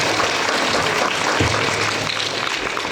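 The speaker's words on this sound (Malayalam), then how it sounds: "നമുക്ക് നല്ലൊരു കൈയടി അച്ഛന് കൊടുക്കാമോ?" An audience at a school Christmas celebration claps loudly and continuously, dense steady applause filling the whole stretch, close and sustained.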